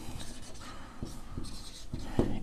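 A pen scratches across paper while maths working is written out. The strokes are soft, short and close, coming in a loose rhythm over a faint room hiss.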